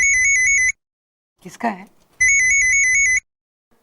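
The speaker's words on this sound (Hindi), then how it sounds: "मेरा फोन बज रहा है" A mobile phone rings with a repeating electronic tone, played in two loud bursts with a gap of silence between them, where a voice briefly speaks.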